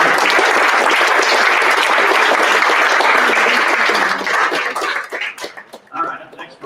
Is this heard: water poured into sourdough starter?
no